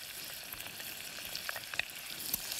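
Bacon, onion and garlic frying in oil in a pan, a quiet continuous sizzle with small crackles and pops scattered through, heard alone and fairly faint.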